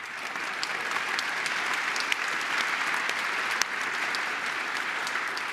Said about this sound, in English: can we just have a round of applause for one person in particular?